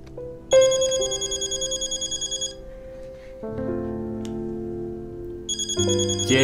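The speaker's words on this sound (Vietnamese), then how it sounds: "Nhận điện thoại đi, nếu không Thanh Linh sẽ lo lắng đấy." A telephone ringtone plays loudly in a drama scene, a bright repeating melodic ring that pauses, resumes in a lower phrase, and starts again near the end.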